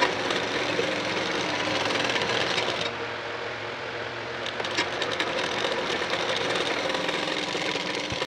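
A sewing machine stitches a blouse sleeve for a boat-neck blouse, running in a steady, continuous whir close by. It eases slightly around the middle before picking back up, with no voices.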